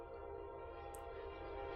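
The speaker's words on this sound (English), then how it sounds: "Train." Train horn sound effect: a short, sustained, harmonic blast that holds at an even level from start to finish, heard alone without talking.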